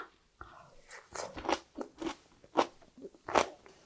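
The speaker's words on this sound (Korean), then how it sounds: "줄기를 한번 먹어볼까요?" Crunchy stems of fresh onion kimchi are bitten and chewed up close, producing a series of crisp, irregular crunches that build in loudness over a few seconds.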